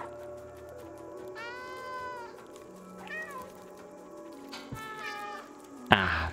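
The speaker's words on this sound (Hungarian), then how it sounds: "Visszanyávogtak mindannyian egyszerre." Several cats in the video game Stray meow back one after another, a handful of separate mewing calls at mid distance over a quiet hum, ending with a short brighter burst.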